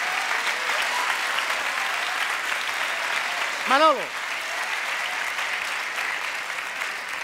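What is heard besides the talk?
audience applause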